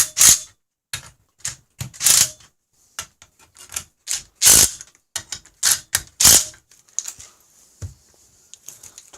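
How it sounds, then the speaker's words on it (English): Repeated sharp ratcheting clicks of a torque wrench tightening crankcase bolts on a Polaris Indy snowmobile, a dozen or so close, crisp strokes in irregular rhythm with short pauses between. "Torque wrench, 25 foot-pounds."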